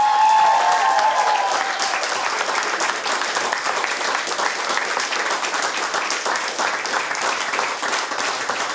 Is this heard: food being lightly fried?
no